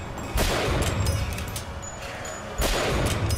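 Two sharp, heavy sniper rifle gunshots in Bioshock Infinite, several seconds apart, each a loud broadband crack with a short tail, over steady game background noise.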